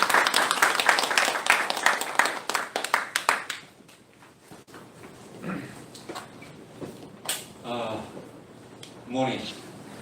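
Audience applause at an author lecture held by a reading forum, welcoming the group's representative: dense, loud clapping for about four seconds that thins out and fades, followed by a voice talking over quiet room sound.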